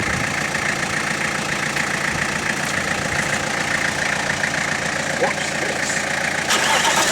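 A diesel engine cold-starts with the help of ether and settles into a loud, rough idle close by, while people talk over it.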